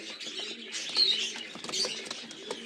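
Young Kaldoma pigeons coo and chirp close by in soft, repeated rumbling calls with faint twittering over a quiet background, no speech.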